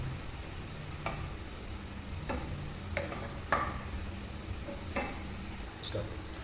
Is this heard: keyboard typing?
no